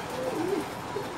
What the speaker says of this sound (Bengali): অ্যান্ট্রো খুব সুন্দর একটা কবুতর, ঠোঁটটা খুব ছোট